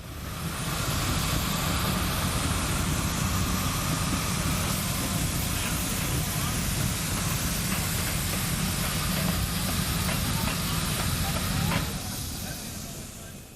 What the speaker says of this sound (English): Atlantic-type locomotive steams onto the turntable